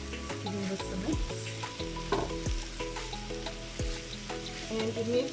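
Potato samosa filling with coriander being stirred in a hot pan, with continuous sizzling and frying under repeated scraping strokes of a spoon, near and moderately loud, without speech.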